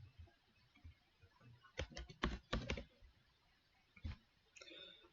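Fingers tap at a computer keyboard in a quiet room, a quick cluster of crisp key clicks followed by a pause and a couple of isolated taps.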